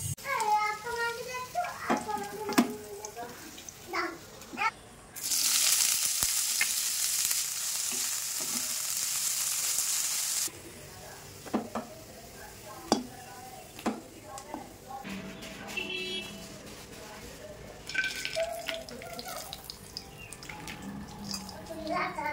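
Fried rice ingredients such as cashews and raisins frying in a home kitchen, with a loud, steady sizzle partway through and scattered clatter of cookware. Someone talks over most of it, and a child can be heard.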